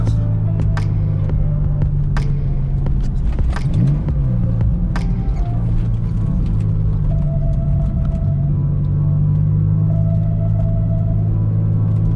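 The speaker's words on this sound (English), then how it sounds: "There's a little bit of intake noise there now." Intake noise comes from a Porsche 996 engine while the car is driving with the windows up. A loud, steady low engine drone and rumble continues throughout inside the cabin, rising slightly at moments.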